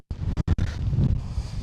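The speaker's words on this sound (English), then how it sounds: "It's windy, you got to be careful stuff don't get blown off." Wind gusting across an exposed hillside campsite on a large landslide in Britain, a steady, fairly loud broadband roar buffeting close to the microphone with a few brief dropouts near the start.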